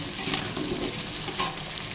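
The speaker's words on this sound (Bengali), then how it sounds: "আলুগুলো একটু পেঁয়াজের সাথে হালকা ভেজে নেব।" Potatoes lightly frying with onions in a pan, with a soft continuous sizzle and the scrape of stirring, moderately quiet and close.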